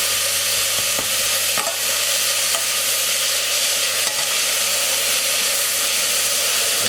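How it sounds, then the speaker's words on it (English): Onions and garlic fry with brown sugar in a pan for a chickpea curry, giving a steady close sizzle and hiss broken by a few sharp clicks of stirring, with no voices. "Let's caramelize the onions nicely and the garlic."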